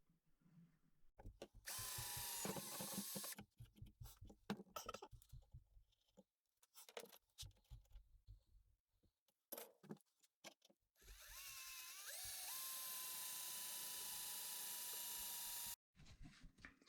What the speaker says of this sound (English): I'm just gonna use a drill and mark up some holes, and I'm gonna drill them